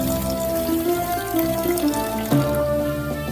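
Vegetable stock pours into a pot of wild rice and mushroom soup, a steady close liquid gush and splash lasting a few seconds, with a faint tonal hum underneath.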